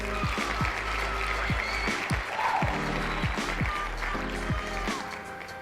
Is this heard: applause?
yes